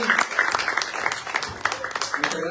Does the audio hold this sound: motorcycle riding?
no